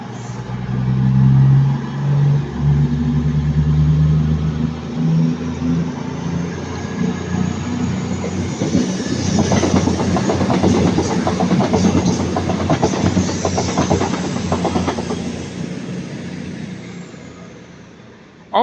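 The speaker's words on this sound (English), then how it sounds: "that cross country was so loud, departing" A CrossCountry train at Ardwick departs nearby, a loud engine drone giving way to rhythmic clickety-clack of wheels on rail joints as the carriages pass, with no voices.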